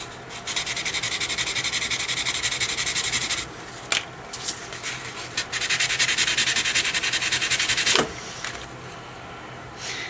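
Fine 400 grit sandpaper rubbed briskly over a wood-burned pyrography piece, a close, steady scratchy hiss in two long bursts separated by brief pauses and a few taps, no talk.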